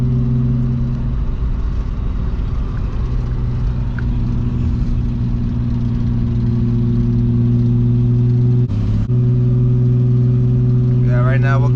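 A car with an engine misfire drives up a hill, its engine a steady loud droning hum with constant rumble throughout, close and unbroken, with a brief dip near the end.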